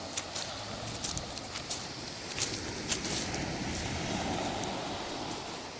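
Sea waves wash continuously along a white-stone Lycian coast, a steady broad rushing surf with light wind buffeting the microphone, no voices.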